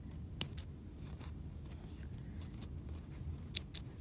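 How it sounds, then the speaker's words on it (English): Scissors snip thread off a practice buttonhole on a sewing machine project: two close, sharp clicks near the start and two more near the end, with quiet room tone and no talking in between. "we just need to trim up our thread."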